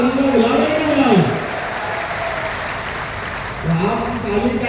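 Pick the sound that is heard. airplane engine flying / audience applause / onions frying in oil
audience applause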